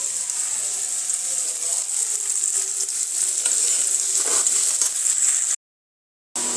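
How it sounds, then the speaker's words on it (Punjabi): A tadka of spices hits hot oil in a home kitchen and sizzles loudly and steadily for several seconds before cutting off abruptly into silence. "ਲੋ ਜੀ ਤੜਕਾ ਮੇਰਾ ਲੱਗ ਗਿਆ"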